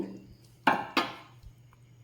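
A pot of boiled chowmein noodles lifted off the stove, two quick metallic clanks of the pot against the burner over a faint room hum, with a soft knock shortly after.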